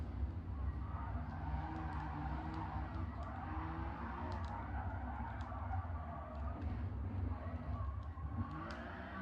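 A stripped-down, bare-bones sports car driven hard, its engine droning steadily with tires squealing and skidding through corners, loud and continuous from inside the cabin.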